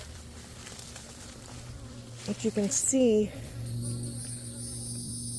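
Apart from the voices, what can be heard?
bees buzzing in a beehive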